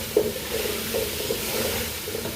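Meat with mushrooms and pesto sautéing in a pan, a steady low sizzle with soft stirring scrapes and a few light knocks, close and fairly quiet, no talking.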